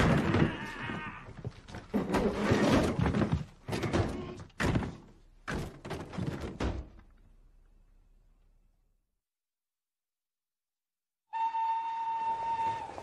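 A train at a station rumbles loudly with clanks and thumps for several seconds, fades into near silence, then a steady whistle or horn tone sounds near the end.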